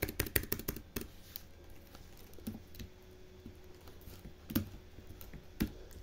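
Code being typed on a computer keyboard during a Laravel programming lesson: quick bursts of close key clicks at the start, then scattered taps and pauses, fairly quiet with no talking.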